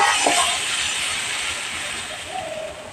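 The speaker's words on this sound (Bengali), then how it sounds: "এবার জল দিয়ে দিলাম।" Water pours into a hot cooking pot holding fish and potatoes, a steady steamy hiss and rushing sound, loud and close, fading slightly toward the end.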